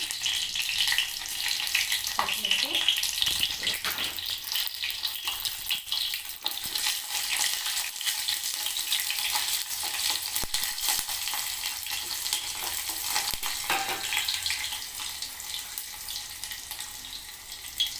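Tempering seeds, cumin and dried red chilies frying in oil in a pot, a continuous bright hissing sizzle running steadily throughout with occasional faint utensil touches, no voices.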